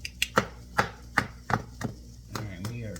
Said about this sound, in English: we are chopping garlic